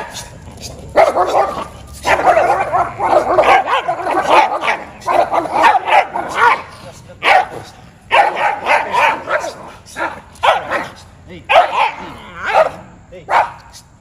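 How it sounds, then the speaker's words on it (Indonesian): A small, aggressive dog that disobeys its owner barks repeatedly and loudly at close range, in rapid bursts of sharp yaps and a few whimpers. People speak at times between the barks. "kalau dia gonggong-gonggong gitu, coba kasih dekatin"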